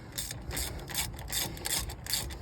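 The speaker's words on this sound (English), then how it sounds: "I am using extra leverage with my pipe here to help break the bolt free" A wrench fitted with a pipe extension works a tight bolt loose, giving quick bursts of metallic ratcheting clicks in a steady rhythm, close and moderately loud.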